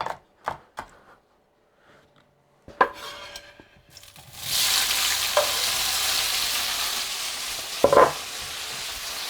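Chunky meat and tomato pieces hit a hot pan and fry with a steady, loud, close sizzle that lasts several seconds, after a few scattered kitchen clicks and knocks at the start.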